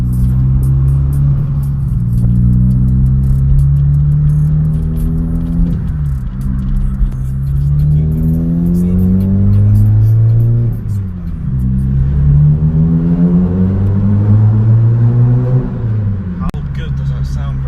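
Renault Clio with an aftermarket Hornet exhaust revving repeatedly with a deep, throaty note, rising and falling in long sweeps, loud and close.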